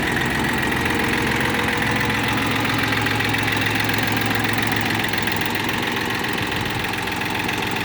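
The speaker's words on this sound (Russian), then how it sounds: "Двигатель работает мягко, исправно." A Japanese tractor engine idles steadily and smoothly, a loud, even mechanical rumble with a fine knocking pulse that holds unchanged throughout.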